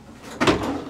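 Sliding doors of a Moscow metro train open with a brief mechanical thump and rush near the middle of a second, close by and moderately loud over the hum of the station.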